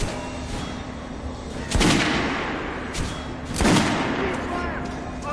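Two loud, sharp shots ring out about two seconds apart at a shooting range in the Metro Last Light video game, over a steady background hum with a voice nearby.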